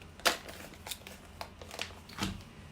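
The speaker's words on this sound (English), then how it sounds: "I've got the IOD air dry clay. Just cut it open." A bag of IOD air dry clay snipped open with scissors, a few short crisp cuts and crinkles of plastic, close up and quiet, spaced irregularly over a few seconds.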